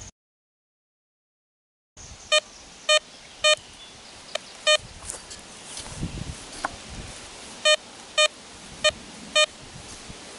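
A Tesoro Vaquero metal detector sounds sharp, clear beeps over a .22 bullet buried 2.5 inches deep, in short evenly spaced pairs and singles over a soft outdoor hiss with light rustling.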